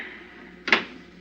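A car door is shut in an old 1955 radio suspense drama. A single muffled thump lands sharply against a quiet, hushed background.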